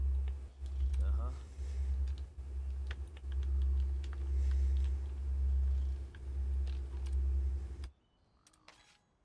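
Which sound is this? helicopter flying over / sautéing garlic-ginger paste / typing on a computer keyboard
typing on a computer keyboard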